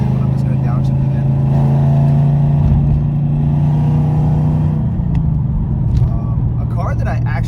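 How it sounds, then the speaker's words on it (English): A car engine drones loudly at close range, its pitch holding steady then shifting as the driver downshifts, with a brief rise in revs near the end; someone talks over it. "I don't know why I upshifted, but I'm just going to downshift again."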